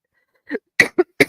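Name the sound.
hard coughing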